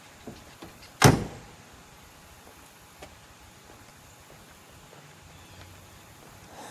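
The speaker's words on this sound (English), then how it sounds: "Let's shut that door for a moment." The door of a 1966 Buick Wildcat Gran Sport convertible shuts once with a single sharp, close thud. A few faint clicks follow in an otherwise quiet setting.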